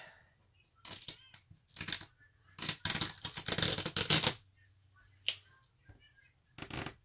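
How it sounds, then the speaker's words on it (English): Tape is peeled off a diamond painting canvas in several sharp crackling bursts and tearing strips, close and fairly quiet, separated by short pauses. "let's take off this tape"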